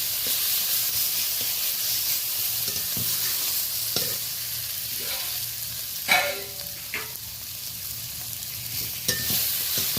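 Onion, tomato and green chili fry in a pan for a mourala fish curry, giving a steady hiss of sizzling oil broken by a few louder scraping stirs near the end.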